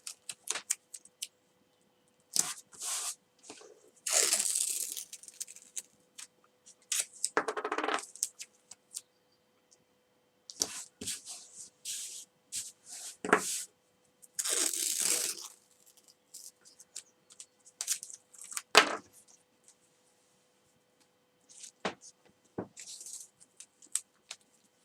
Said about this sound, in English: So you do it all round with masking tape.